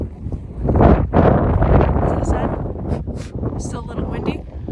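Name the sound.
wind blowing outdoors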